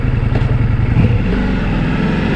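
A motorcycle engine climbing the Col de l'Iseran mountain pass, a loud, close, steady low drone with a pulsing exhaust beat and no voices.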